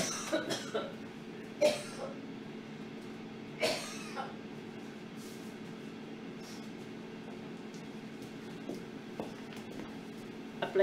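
Coughing fit triggered by chili in laksa paste, a few brief harsh coughs spaced several seconds apart against a steady low background hum, fairly close and moderately loud.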